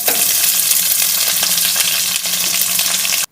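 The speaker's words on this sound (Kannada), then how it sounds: "ಇವಾಗ ಇದಕ್ಕೆ ನಾನಿಲ್ಲಿ ಒಂದು 3 ಈರುಳ್ಳಿನ ನಾನಿಲ್ಲಿ ಉದ್ದುದ್ದಾಗಿ ಕಟ್ ಮಾಡ್ಕೊಂಡು ಹಾಕ್ಕೊಳ್ತಾ ಇದ್ದೀನಿ" Long-sliced onions fry with garlic in a pan for onion rice, a loud, dense sizzle close up that holds steady, dips briefly, then cuts off at the end; nobody talks.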